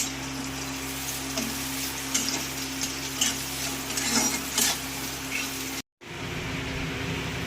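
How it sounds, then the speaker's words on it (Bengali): Bread and bhujia fry in a pan with a little salt, giving a steady close sizzle with occasional stirring scrapes and light ticks, and no talk over it. "সামান্য একটু লবণ দিয়ে ভাজবো, তাতেই নরম হয়ে যাবে।"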